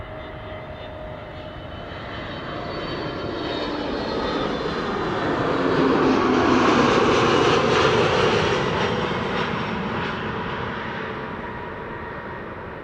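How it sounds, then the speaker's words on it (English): An SAS Airbus A320neo arriving at Amsterdam Schiphol as flight 821 from Oslo, its engine roar swelling steadily as it passes close overhead and then fading slightly, heard alone without talk. "This is SAS flight 821 arriving from Oslo."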